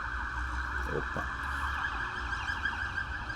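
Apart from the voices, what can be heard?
ambulance or police siren passing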